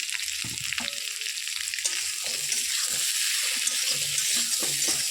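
Raw broad bean seeds fry with potatoes in a hot pan, giving a steady, bright sizzle that runs throughout, with soft scraping and stirring knocks close by.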